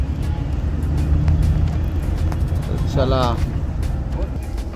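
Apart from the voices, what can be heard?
luxury bus pulling away on Mumbai to Dapoli trip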